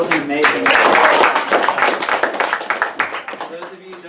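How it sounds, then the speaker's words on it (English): Audience at a magicians' circle trophy contest applauds after a card magic act, with close, lively clapping that tapers into scattered individual claps while voices carry over it. "another round of applause for David."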